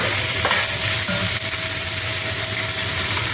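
Chopped onions sizzle and fry in an olive oil blend in a hot pan, a loud, steady, close crackle with occasional stirring scrapes and no talking.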